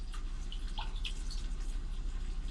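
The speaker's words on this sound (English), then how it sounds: "you can have rainy day" Steady rain ambience with scattered drips, played as a calming sound setting through the cabin speakers of a 2021 Genesis GV80; an even, close hiss that holds from start to finish with no voices.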